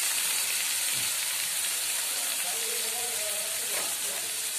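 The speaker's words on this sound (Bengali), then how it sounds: "এবার ভালো করে কষিয়ে নেব।" Spices and fish curry (pabda macher jhol) with water, salt and sugar sizzle steadily in a pan, a constant bright hiss with a few faint clinks, close and unbroken.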